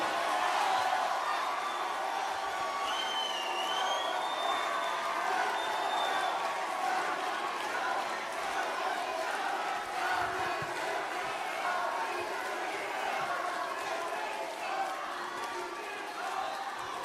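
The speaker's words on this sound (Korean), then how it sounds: "뜨거운 박수로 맞이해 주십시오" A large crowd at a Democratic Party rally cheers and applauds steadily as party leader candidate Kim Min-seok, number 3, arrives to speak, with shouting voices and a dense, sustained roar throughout.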